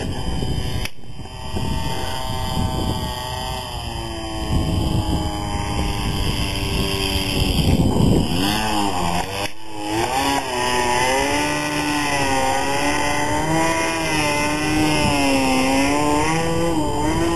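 A model airplane's small high-revving engine, running rough in flight, buzzes loudly and continuously, its pitch wavering and dipping around the middle before settling back into a steady whine.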